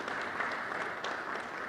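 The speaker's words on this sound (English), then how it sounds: "let's everybody give Valencia a round of applause" A short patch of moderately loud clapping from the audience at a blockchain summit panel at Howard University, even and continuous for under two seconds with no speech.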